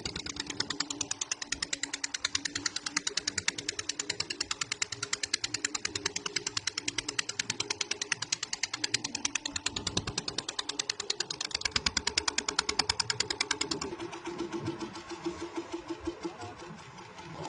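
A fishing boat's engine chugs steadily at close range with a fast, even rhythmic knock, then slows and fades as it is stopped near the end.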